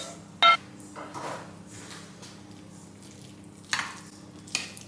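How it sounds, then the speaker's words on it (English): Paella being stirred in a pan, with soft scraping and shuffling strokes over a low steady hum, a couple of brief sharper clinks near the start and end. "Let's stir it all together now"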